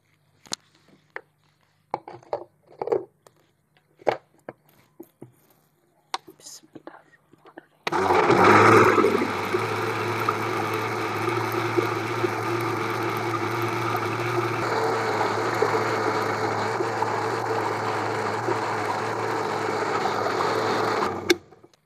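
An electric mixer grinder grinding rice for kheer starts after scattered clinks and quiet handling sounds, then runs as a loud, continuous whirring whine for about fourteen seconds before stopping.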